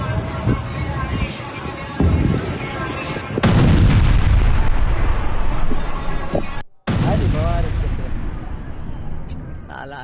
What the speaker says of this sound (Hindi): आईडीएफ की बमबारी में धुआं धुआं हुआ यमन